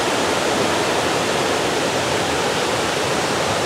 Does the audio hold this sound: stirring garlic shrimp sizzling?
no